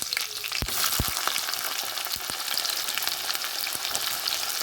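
Onions and green chillies sizzle loudly in hot tempering oil in a pan, a dense continuous frying hiss broken by a few sharp pops and crackles, with no voices.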